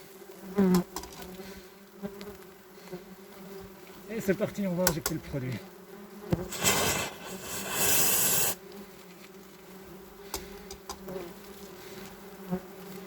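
Wasps buzz loudly around five huge nests in an attic while a pest-control worker speaks and sprays product, with intense bursts of buzzing and hissing spray close by.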